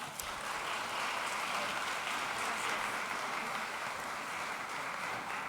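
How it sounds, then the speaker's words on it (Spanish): A lecture audience applauds in a dense, continuous patter of clapping that holds steady from start to finish at moderate volume. "brindemos un fuerte aplauso"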